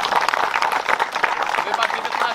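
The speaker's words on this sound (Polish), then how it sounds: "Także brawa ponownie dla panów." Applause for prize winners at a Polish carp fishing championship, a dense continuous clatter of many hands at moderate distance, with a voice speaking over it.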